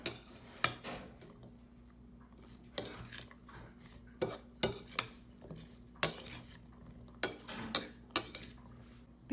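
Pico de gallo with lemon juice gets stirred in a bowl, a spoon clinking and scraping in irregular close taps and knocks over a faint quiet background.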